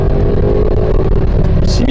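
A Lancia Thema 8.32 with its Ferrari engine accelerates hard, giving a loud, close, continuous engine roar from inside the car while someone talks over it.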